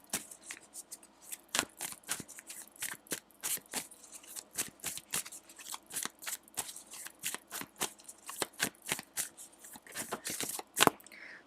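Tarot cards shuffled by hand in a long run of quick, crisp riffling bursts with brief pauses between them, close and fairly loud with no talking.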